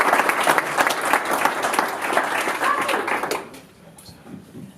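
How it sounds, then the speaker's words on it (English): An audience at a startup keynote and VC pitch event claps steadily in a loud, full round of applause that fades out near the end, leaving a quiet room. "Give Mr. Elliott another round of applause"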